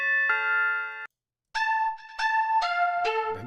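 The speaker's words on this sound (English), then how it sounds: "Church bell." Church bell preset in FL Studio 20, a sustained bright bell tone followed after a short silence by a series of descending chimed notes that ring close and clean.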